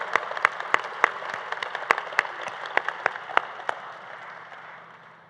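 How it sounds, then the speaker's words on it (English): An audience applauds the graduating class at a college pinning ceremony for radiography, sonography and surgical technology programs, with sharp distinct claps over a steady bed of clapping that fades out toward the end. "let's give another round of applause to the graduating class of 2024"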